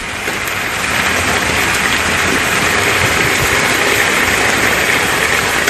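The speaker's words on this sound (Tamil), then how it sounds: "மிதமான மழை பெய்தது" Moderate rain pouring down during a sudden shower, a dense, steady hiss of falling water that stays loud and even for several seconds, with no voices.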